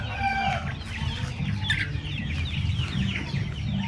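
Heritage chickens cluck and chatter in a busy flock close by, with overlapping calls and a brief higher squawk.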